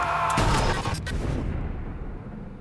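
A loud gunshot booms in a scene from the TV series 1899, a sharp blast followed by a rumbling decay and reverberant tail.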